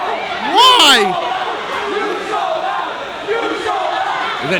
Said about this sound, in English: The Tiffin crowd letting him have it